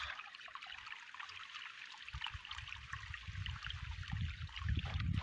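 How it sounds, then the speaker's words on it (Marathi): Water runs from the outlet of a solar-powered pump on a farm, a faint, steady trickle with low rumbling flow growing slightly stronger toward the end. "इतकं पाणी मारत आहे आपलं सोलर."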